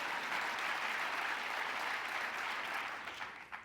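Sustained audience applause fills a large hall during a New York State of the State address, steady and dense throughout before thinning slightly near the end.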